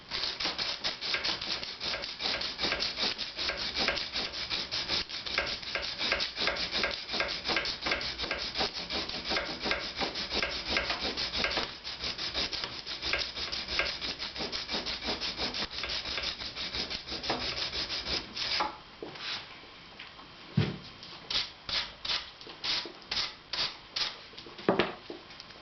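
Abrasive sanding of a jaw harp frame, a steady dense rasping rub for most of the run, then breaking into short separate strokes near the end, close and fairly loud with no talk.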